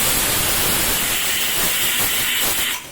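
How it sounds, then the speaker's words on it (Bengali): A pressure cooker whistle blows off steam in a continuous loud, broad hiss that holds steady for almost three seconds before cutting off abruptly, with no voices. "প্রেশার কুকারে সিটি দিয়ে দিচ্ছে"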